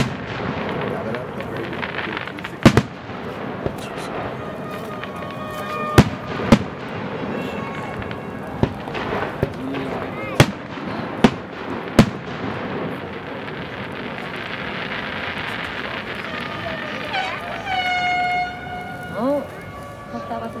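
Canada Day fireworks on Salt Spring Island go off as scattered sharp booms, some distant, others crackling louder, while people chat nearby.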